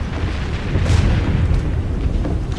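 Distant French artillery cannon fire rumbles as low, continuous booming across the whole stretch, with a slightly stronger thud near the middle and no voices over it.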